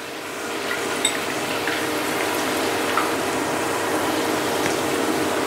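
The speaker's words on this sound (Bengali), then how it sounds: "এখন আমি দিয়ে দিচ্ছি এই ঝুরি আলু ভাজাটা, মানে ঝুরি আলু কাটাটা, তারপরে পরে হবে ভাজা" Shredded potato hits hot oil in a frying pan, giving a steady close sizzle and crackle that holds evenly throughout with small pops scattered through it.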